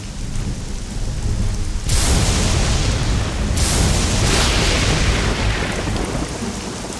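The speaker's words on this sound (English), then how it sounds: "Until the storms came and drowned our paradise." Heavy rain pours through a Battle Realms thunderstorm, with loud rolling thunder bursts swelling over the steady downpour and no voices.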